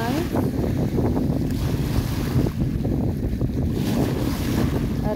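Pacific Ocean water washing against the shore, a steady low rushing wash of surf mixed with gusty wind buffeting the microphone, close and continuous with no talking.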